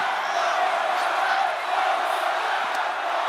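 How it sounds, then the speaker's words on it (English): Arena crowd in the WWE 2K25 wrestling video game, a dense continuous roar of cheering and shouting that holds steady at moderate level throughout. "Look at this crowd."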